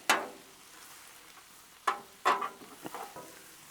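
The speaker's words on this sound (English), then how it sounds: "Let's go ahead and give it a stir." Cabbage frying on a Blackstone griddle is stirred with a spatula: a sharp scrape at the start, then after a pause a cluster of quick scrapes and clacks over a faint sizzle.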